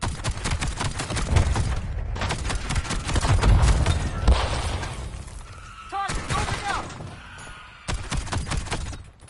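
An M1911 pistol fires in rapid, sharp, close bursts in Black Ops 7 on PS5, with clusters of shots separated by short pauses and a brief stretch of talk in the middle.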